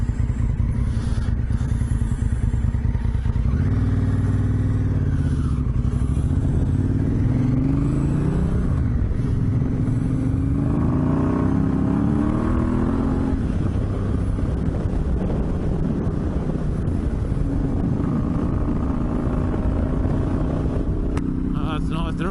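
Dirt bikes ride along an outback desert track near the Yunta Road, a steady engine drone with wind buffeting the microphone throughout, while a rider talks over it.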